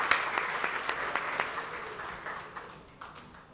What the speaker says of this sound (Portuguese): Uma salva de palmas para Vicente Duarte